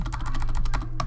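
Brisk keystrokes on a computer keyboard, a quick run of closely spaced clicks over about a second, close and clear.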